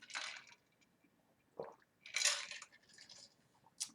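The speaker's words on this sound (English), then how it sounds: "Pardon me while I drink some water." A person drinking water, close quiet squishy sips and swallows in a few separate bursts with near silence between them.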